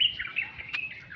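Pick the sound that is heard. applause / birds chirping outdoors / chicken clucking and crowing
birds chirping outdoors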